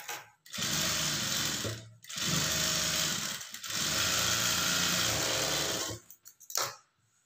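A sewing machine top-stitches the front of a blouse in three long, steady, close runs of rapid whirring stitching separated by brief pauses, ending in a few quick clicks and bumps.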